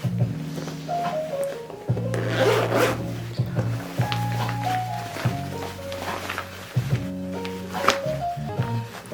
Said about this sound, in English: I'm just going to test my zip one more time to see if it's working correctly.